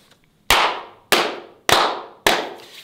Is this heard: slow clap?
yes